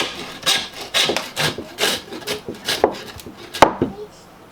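A beef shank being cut into pieces, with repeated rasping, scraping strokes of blade on meat and bone close by, uneven in rhythm and ending in a sharper knock.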